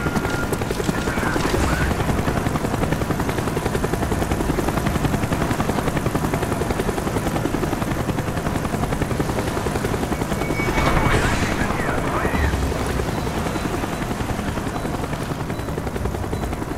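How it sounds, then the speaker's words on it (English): A swarm of helicopters in the Call of Duty Black Ops video game, with a loud, continuous whirring rotor drone that fills the whole stretch and dull thuds and surges about two-thirds of the way through. "Avoid the helicopter swarm."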